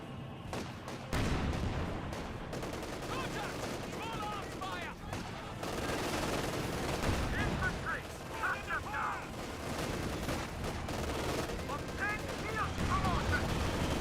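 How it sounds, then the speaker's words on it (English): A Company of Heroes 2 battle rumbles with a Katyusha rocket barrage, an incendiary artillery barrage and gunfire: dense bursts of explosions and shots over a continuous din, while a voice commentates throughout. "Katusha barrage misses. Incendiary artillery barrage in the cannon warfare."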